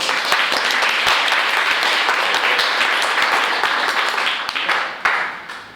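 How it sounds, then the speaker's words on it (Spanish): A room of classmates applauding their companions after a group performance, loud dense clapping close by that thins and fades toward the end. "Aplauso para los compañeros"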